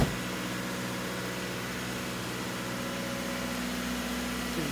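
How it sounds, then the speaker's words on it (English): A 2017 Subaru Legacy 2.5i sedan's 2.5-liter four-cylinder engine idles steadily with a smooth, even hum and low droning tones, close by, with no one speaking. "That's a good little Subaru engine"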